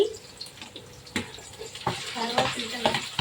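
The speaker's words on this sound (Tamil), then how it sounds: "கருவேப்பிலை, நல்லா கிளறி வச்சுக்கலாம்." Tomatoes with curry leaves being stirred in a frying pan for Tamil-style chicken curry, giving soft scraping and sizzling with a few sharper utensil knocks, close and moderately quiet.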